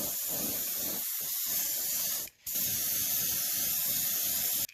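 Close, steady airbrush hiss as pearl blue paint is sprayed onto a topwater walking-bait fishing lure, a continuous spray with one brief pause near the middle before it resumes.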